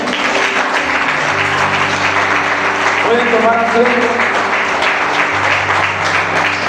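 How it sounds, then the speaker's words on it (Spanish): A church congregation claps steadily throughout, a dense wash of applause with someone speaking over it partway through. "Dale un aplauso al Señor."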